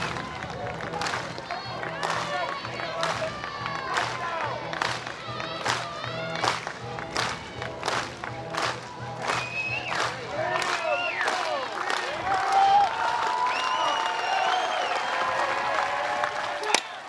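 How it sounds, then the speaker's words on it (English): A Florida home crowd at a college softball game against Florida State cheers and claps steadily through the stretch, sustained crowd noise with rhythmic clapping bursts early, then louder cheering rising near the end. "Florida State down to their final strike. And the Florida crowd will let you know."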